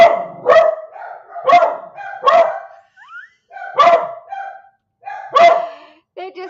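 Several dogs bark back and forth in loud, close, repeated single barks at an uneven rhythm, with short gaps between them and a whine near the end.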